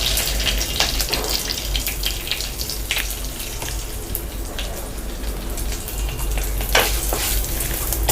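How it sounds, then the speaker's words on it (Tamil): Mustard seeds and asafoetida spluttering in hot oil for a moong dal sambar, giving steady loud crackling with sharp pops scattered throughout, no voices. "இப்போ நம்ம கடுகு போட்டுக்கலாம். பொரிஞ்சாச்சு."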